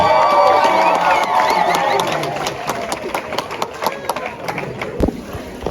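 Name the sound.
wedding guests applauding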